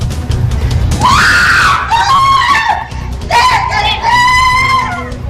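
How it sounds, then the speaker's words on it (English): Several people scream in chilling, high wailing cries, two long rising and falling bursts, loud and close, over a rough noisy background. "Chilling screams there."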